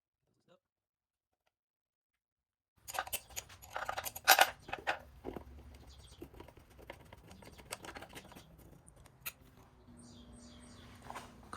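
Removing the screws that hold the carburetor on a 1958 Lawn Boy 5200 Deluxe mower: silence, then close clicking tool contacts, metallic taps and scraping handling noises, with faint talk nearby.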